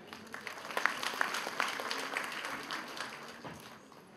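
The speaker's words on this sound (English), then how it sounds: "a round of applause for the very popular youth icon" Audience applause for a singer being honoured at a university felicitation ceremony in Mumbai, a fairly quiet, dense wash of clapping that carries on steadily throughout, with no voices over it.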